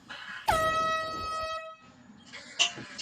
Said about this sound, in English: Okay, air horn.